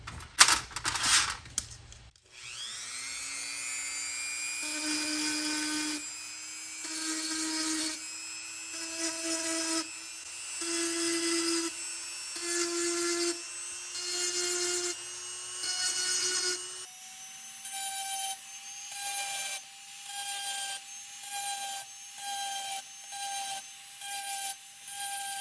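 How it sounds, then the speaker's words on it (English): A Dremel rotary tool grinds a spot on jewelry pieces, a high whining motor with repeated pulsing bursts as the bit touches the surface, steady and close, pitch dropping partway through. "I have my Dremel tool. Any kind of etching tool will do. I put any kind of bit on and just grind a little spot in the top where the bale will be."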